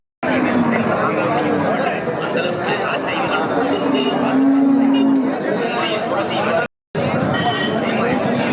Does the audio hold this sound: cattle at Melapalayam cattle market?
yes